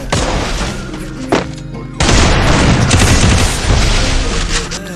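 Shots in a mobile shooting game: a heavy booming report near the start and another loud burst at about two seconds, followed by dense gunfire and game noise, with a commentator talking excitedly.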